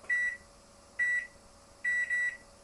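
A microwave oven cooking a jacket potato on high gives short electronic beeps: single tones spaced about a second apart, then a quick double beep, clear and close in a quiet room.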